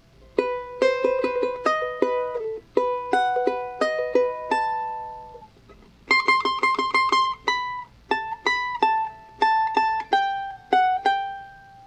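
A charango plays a Bolivian taquirari phrase, bright plucked strings ringing out in quick repeated notes and short strummed runs, with a brief pause midway, heard up close and alone.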